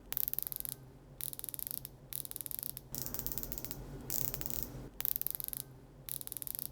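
A replica Rolex Submariner's rotating bezel turned in several bursts, each a fast run of tiny crisp ratcheting clicks, close and quiet, separated by short silent pauses.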